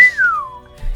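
A person whistles one clear, loud, descending note that glides down and trails off, alone with no talk.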